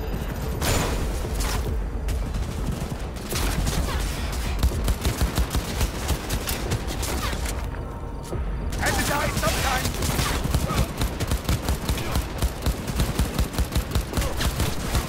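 Gunfire in Cyberpunk 2077 rattles in dense, rapid bursts of automatic shots with booming impacts, nearly continuous apart from one short lull, with a voice talking over it.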